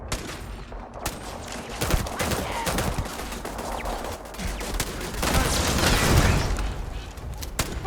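Rapid bursts of gunfire from a gun in the Starfield video game crack out loud and close, with sharp individual shots and heavier sustained volleys.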